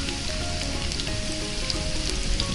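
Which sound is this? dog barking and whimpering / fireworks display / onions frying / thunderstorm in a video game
onions frying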